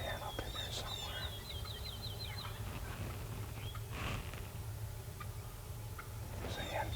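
Wild turkeys call from the woods during spring turkey season, a hen somewhere out of sight among toms: a few distant yelps and clucks break through steady outdoor background noise.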